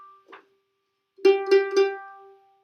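Someone plucks a three-note mandolin chord with the fifth in the bass, strummed as three quick separate strikes that ring clearly and decay slowly. A short faint plucked note comes first.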